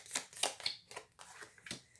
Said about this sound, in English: while I was shuffling these cards in particular